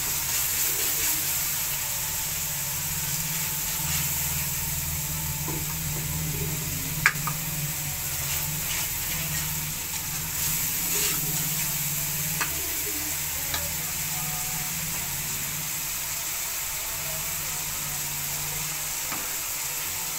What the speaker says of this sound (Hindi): अब घी छोड़ने तक इसको भूनेंगे